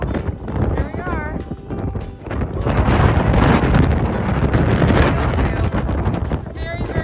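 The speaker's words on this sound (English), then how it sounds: "It's very, very windy." Strong wind on the Monterey Bay shore in California buffets the microphone in heavy, rumbling gusts that rise and fall, with a few faint voices in the background.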